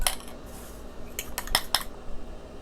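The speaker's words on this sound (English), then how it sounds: "I'm gonna beat 1 egg." One egg is beaten in a bowl for Polish stuffed cabbage balls, giving a quick run of light clinking taps from utensil against dish, with a few sharper strikes near the end and no talk.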